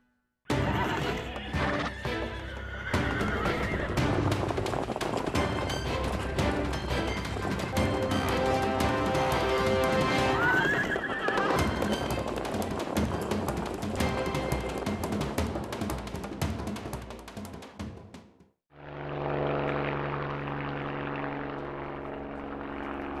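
Wild horses being driven off the range, with loud neighing and whinnying over hoof clatter and a steady propeller-like aircraft drone, followed by a sudden cut to a different, quieter droning passage.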